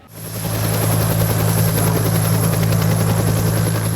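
A helicopter at a military air show picnic at Katowice Muchowiec airport, its rotor beating loudly and steadily close by after a quick rise in level, with a high turbine whine, no talk.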